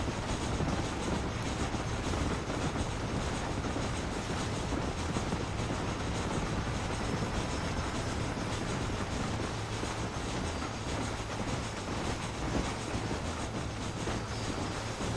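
A train rolls along steadily in the western video game Red Dead Redemption, giving a continuous, dense rumble of wheels and carriages that holds at an even loudness for the whole stretch, with no voices over it.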